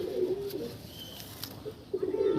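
Delhi pigeons coo in a loft with low, throaty bursts at the start and again near the end, close by, with a faint hiss between the calls and no speech.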